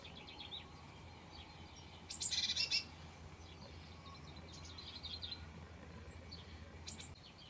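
Small birds chirp and call softly at a backyard feeding platform, with a brief burst of busy twittering, then scattered tweets over a faint, steady outdoor background.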